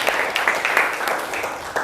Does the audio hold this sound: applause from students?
yes